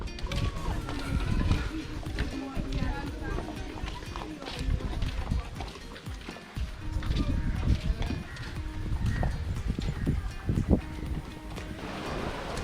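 Horses wade and splash through sea water off Zanzibar, hooves thudding and water churning unevenly close by, with wind in the background and people's voices now and then.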